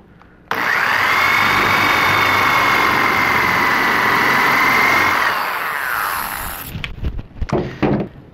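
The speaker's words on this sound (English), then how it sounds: "I'm going to take my spade bit. And drill about halfway down through this piece of wood." A power drill runs a spade bit into a piece of wood with one long, loud, steady whine for about six seconds. The motor then spins down and a few knocks and handling thumps follow.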